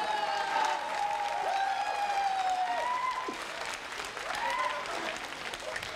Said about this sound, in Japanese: 甚だ異例ではございますが三本締めをよろしくお願いいたします。